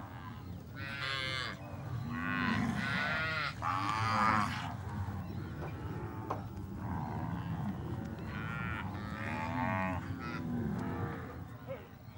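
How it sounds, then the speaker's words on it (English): Pantaneiro zebu cattle low and moo repeatedly from a herd on the Paraguay River, several overlapping calls near and far, with a steady background murmur and no talk. "They board the cattle on the Paraguay River"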